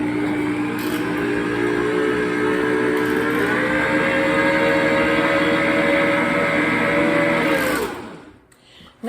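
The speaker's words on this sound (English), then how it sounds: "So I have 3 sticks in my mixer. I'm going to turn it on and get it started." An electric stand mixer runs on three sticks of unsalted butter, a loud steady motor whine with a slight pitch rise midway, close, then it winds down and stops near the end.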